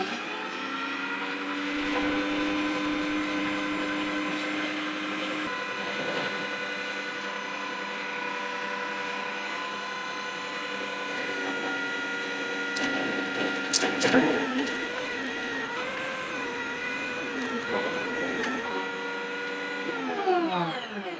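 Electric meat grinder whirring steadily as it grinds lean veal and pork, a droning motor tone that shifts pitch as the load changes, with a few clunks midway and brief talk over it.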